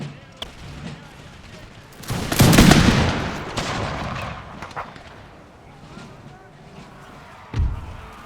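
A musket volley erupts in an Empire Total War mod battle, a loud, rolling crackle of massed shots swelling and fading over a couple of seconds amid distant battlefield noise, with a sharp later report and a voice shouting orders.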